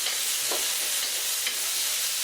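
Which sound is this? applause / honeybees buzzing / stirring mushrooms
stirring mushrooms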